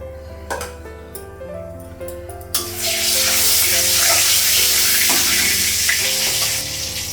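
A fish is laid into hot white cooking oil in a home kitchen. Soft background music plays before a sudden loud, steady sizzle erupts and crackles on for several seconds.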